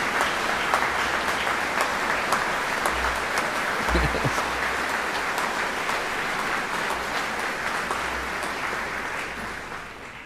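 Sustained applause from a graduation ceremony audience for students standing to be recognized, a steady broad wash of clapping that holds for about ten seconds before tapering slightly at the end.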